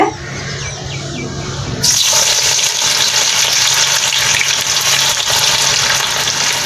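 Eggplant pieces go into hot oil for frying. A loud, steady sizzle starts abruptly and carries on close and dense to the end, over a fainter kitchen hiss before it.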